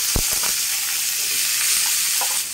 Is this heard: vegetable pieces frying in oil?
yes